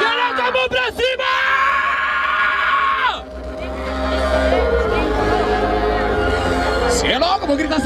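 A crowd at a Brazilian street rap battle, Batalha da Aldeia in Barueri, São Paulo, yells and whoops loudly and continuously, with shouting voices carrying over a dense, roaring wall of cheering throughout.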